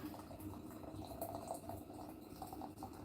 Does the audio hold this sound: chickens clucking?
no